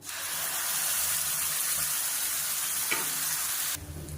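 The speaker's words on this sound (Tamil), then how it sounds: "இப்போ நம்ம அரைச்சி வச்சா சட்னியை சேர்த்துக்கலாம்." Ground chutney goes into hot oil tempering with curry leaves, setting off a loud, continuous sizzle and crackle that holds steady before cutting down abruptly near the end.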